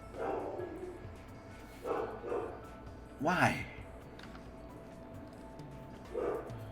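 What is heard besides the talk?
dog barking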